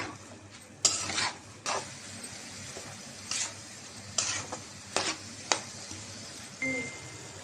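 Green chilies and greens are sautéed in a pan over a steady sizzle, with a spatula scraping and knocking against the metal in repeated sharp strokes.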